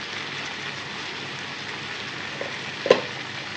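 Ginger paste frying with chicken in a pan, giving a steady close hiss and sizzle with a brief sharper crackle near the end, and no one speaking.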